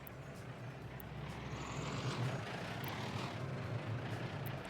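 A bus engine in the city-building game Workers & Resources: Soviet Republic gives a steady, droning rumble with a low throbbing hum, holding even and fairly loud throughout with no talking.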